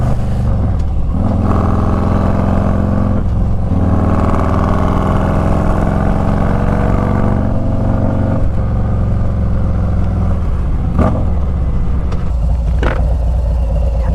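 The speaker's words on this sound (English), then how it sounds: "I love the sound that this thing makes when I just punch the throttle." A Harley-Davidson Street Glide Special FLHXS motorcycle is heard up close as the throttle is punched repeatedly, its loud engine note rising and falling through several strong pulls with brief dips between them.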